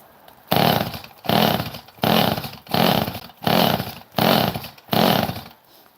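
A warm chainsaw drop-started and revved in seven loud, evenly spaced bursts, each roaring up and dropping back to a brief idle between pulls of the throttle, close by with no talking.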